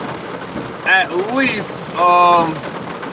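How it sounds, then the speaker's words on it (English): Heavy rain pours down steadily outdoors as a broad, constant hiss beneath someone talking close up. "this rain coming down too damn hard"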